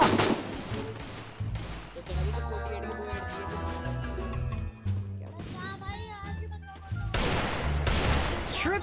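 Gunfire from an M10 long-range gun in a shooter video game, with repeated loud close bursts of shots separated by short pauses, and someone talking over parts of it.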